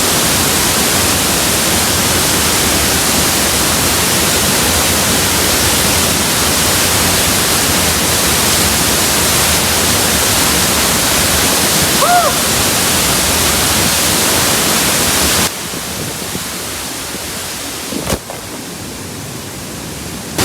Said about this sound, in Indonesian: Air terjunnya lagi deres-deresnya ya